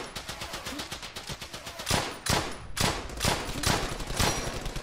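Rapid automatic gunfire in the WWII shooter Brothers in Arms: Hell's Highway, with dense rattling bursts and heavier shots at a steady pulse, loud and continuous.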